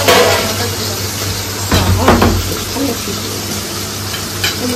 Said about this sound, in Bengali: ওই দিকে একটু ময়া মাছ ভাজা হচ্ছে